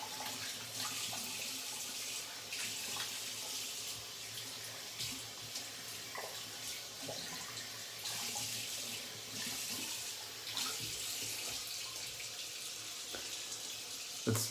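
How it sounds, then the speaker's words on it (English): A razor is rinsed under a running tap into a sink, a steady faint splashing gush of water with small clinks and knocks throughout, no voices. "That's the most annoying sound in a shaving video is people rinsing."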